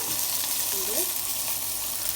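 Fish fries in a pan with a steady, even sizzle that holds close and constant throughout, with no clear breaks or pops standing out.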